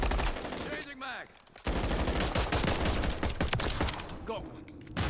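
Modern Warfare 3 video game gunfire: dense, sustained automatic bursts from several weapons, loud and nearly continuous apart from a short lull, with game voice lines heard among the shots.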